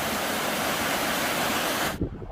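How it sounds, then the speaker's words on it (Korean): A small waterfall pours down beside a mountain forest trail on Gwangnyeosan in South Korea. The steady, full rush of water holds for about two seconds and then cuts off abruptly. "폭포처럼 물이 내려오는 멋진 곳이 있어서 잠깐 보여드립니다"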